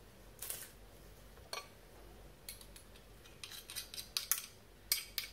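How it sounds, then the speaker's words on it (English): Cloves of garlic crushed in a Good Grips garlic press, heard as scattered metallic clicks and squeezing crunches that grow busier near the end, close and fairly quiet with no talking. "it's a garlic press from Good Grips, put about 2 or 3 cloves of garlic in"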